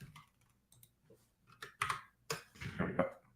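Scattered computer keyboard keystrokes and a shortcut press, a few soft clicks and taps spread out with short pauses, close and fairly quiet.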